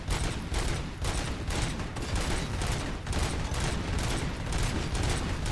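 Sustained rapid gunfire in the RoboCop: Rogue City video game, loud dense bursts of shots repeating steadily with no talk over it.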